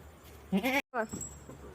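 Goats and young goat kids bleat on a farm: a pair of short, wavering bleats close by, with a voice talking over the quiet background.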